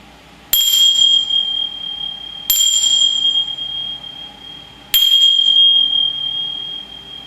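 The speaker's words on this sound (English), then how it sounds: "I'm going to go ahead and ring the chimes now." Chimes are rung three times during a chair yoga session, each strike a bright, clear metallic ring that hangs and slowly decays, spaced about two seconds apart, with no talking.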